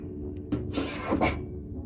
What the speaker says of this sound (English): the thing comes back to that hole, scratching and prying